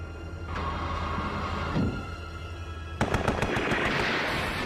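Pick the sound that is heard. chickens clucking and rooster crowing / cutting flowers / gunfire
gunfire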